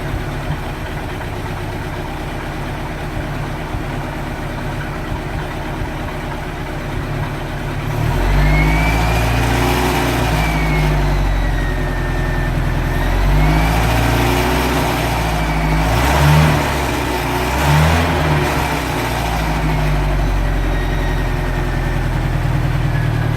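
A 1986 Sea Ray boat's engine, struggling with a rough idle, rumbles low and steady, then swells as throttle is added, revving in uneven surges with a whining overtone, close and loud.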